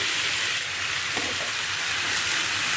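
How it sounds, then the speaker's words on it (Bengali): Tomato and potato frying in a pan for a simple home-cooked dish, a loud continuous hissing sizzle with a brief stir partway through and no talk. "টমেটো দেওয়া হয়ে গেছে, কষছি এখন আমি। আর এখানটায় আলুটা দিয়ে দিচ্ছি।"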